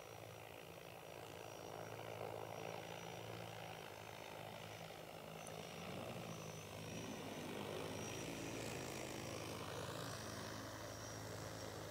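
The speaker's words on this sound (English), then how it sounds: "The LIDAR terrain following on this drone seems to be a heck of a lot better than the radar that other drones use." An EAVision J100 agricultural spray drone flies with a steady whirring propeller drone, moderately loud and continuous, its pitch shifting slightly as it turns while following terrain.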